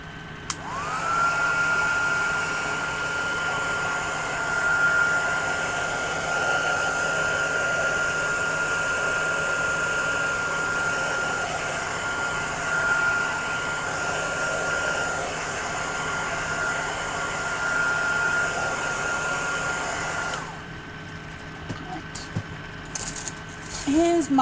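Hair dryer blowing on wet journal pages, a steady loud whooshing whir lasting about twenty seconds before cutting off, with light handling noises afterward.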